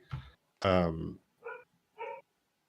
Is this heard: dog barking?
yes